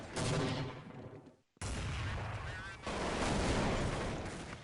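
Gunfire in Counter-Strike 1.6 ending in a headshot on a nearby enemy, with dense, loud bursts of shots filling the clip, a brief gap, then continued rapid firing under the game's busy noise.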